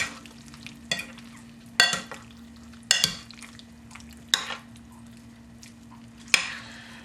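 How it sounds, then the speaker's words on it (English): Sticky chicken wings stirred around a hot pot, with a low sizzle and a hum running underneath and six or so scraping, clattering strokes of the spoon against the pot at irregular intervals, close up with no talk. "We're just going to give these a nice stir around."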